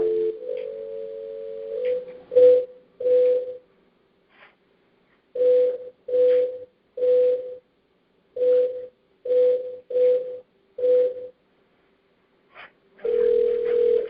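A telephone on speakerphone in a hearing room gives a steady dial tone, then a series of short evenly spaced tone bursts as keys are pressed, ending with a longer sustained tone; no talk.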